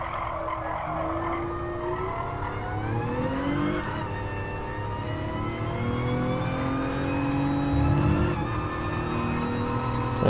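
A race car engine in Gran Turismo Sport screams under load, its pitch climbing and then dropping sharply at each upshift, loud, continuous and close, with tyre noise underneath.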